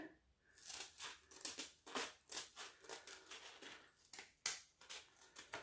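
Scissors snip through a coarse gray abrasive pad in a rapid series of crisp, dry cuts with rustling and crinkling between them, close and quiet with no talk.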